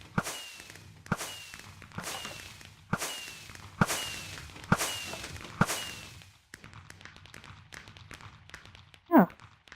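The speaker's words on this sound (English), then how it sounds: "you might hear real-life fireworks going off in the background" Real-life fireworks go off in the background: about seven sharp, evenly spaced cracks, each with a ringing, echoing tail, followed by fainter pops and a short whoosh at the end.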